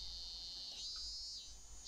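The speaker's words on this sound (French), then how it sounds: "Les cigales chantaient comme..." Cicadas drone in a video game, Kare Wa Kanojo, as a steady high-pitched buzzing hum that shifts slightly midway and stays soft and continuous throughout.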